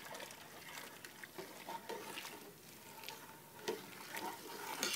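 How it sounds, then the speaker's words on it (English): Lye solution being stirred in a container of water while mixing lye water for soap making, giving soft, intermittent watery swishes and light clinks, quiet and close, with no talking. "I have to stir this because the lye settles to the bottom."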